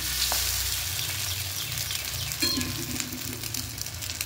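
Bread slices fry in a small amount of oil in a pan, giving a soft continuous sizzle and crackle up close, with faint scraping as the pieces are moved about.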